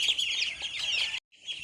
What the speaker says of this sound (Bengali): দেখো এইখানে আছে মুরগি বাচ্চা আর এইখানে আছে হাঁস বাচ্চা